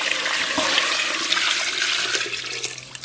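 Water poured into a cooking pot holding pork leg bones and fried braising base, a steady splashing wash of liquid filling the pot for about three seconds, close and fairly loud with no talking.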